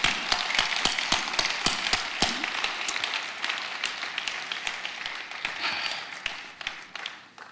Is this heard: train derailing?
no